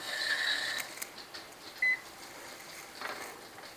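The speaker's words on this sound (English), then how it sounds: "I'll set my timer." A short electronic beep rings out once from a kitchen timer amid quiet background clatter and faint rustling.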